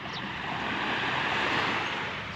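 Surf washing steadily onto a seashore during a fishing outing, a continuous broad rush of breaking waves with some wind, holding even throughout with no voices.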